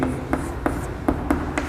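Chalk or pen taps and scratches out an algebra equation on a board or paper, with a few quick, crisp strokes spaced irregularly over a steady background hiss.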